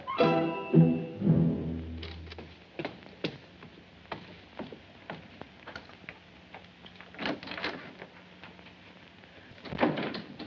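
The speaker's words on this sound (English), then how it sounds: "Close that door." A door pushed shut in an indoor scene from a 1948 film noir, heard as a few sharp knocks and clicks with quieter taps and rattles scattered over roughly ten seconds, with no voices.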